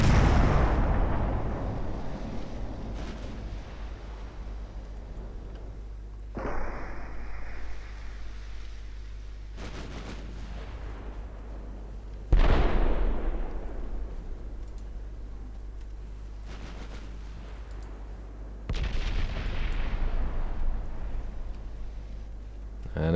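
Naval main guns of the warship St. George, with 11-inch guns, firing in a 1939 Norwegian Campaign naval war game; four heavy booming salvos spaced several seconds apart, each with a long rumbling decay, over a constant low engine drone.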